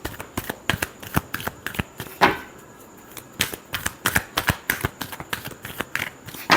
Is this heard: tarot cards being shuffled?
yes